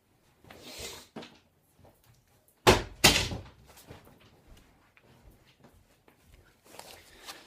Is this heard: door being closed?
yes